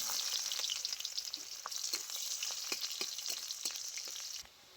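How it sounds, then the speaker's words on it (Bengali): Onion and green chillies frying in hot mustard oil, a steady close crackling sizzle with scattered sharp pops and stirring clicks, continuous until it drops away abruptly near the end. "পেঁয়াজটা খুব ভালো করে ভেজে নিয়েছি"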